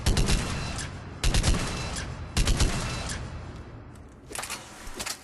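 The Argus rifle in Mass Effect 3 fires three sharp, loud bursts about a second apart, each a tight cluster of shots, followed by fainter scattered impacts and clatter.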